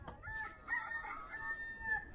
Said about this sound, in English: what's a fucking cockerel